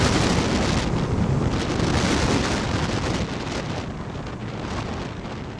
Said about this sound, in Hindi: भाई हवा बहुत ज़्यादा है यार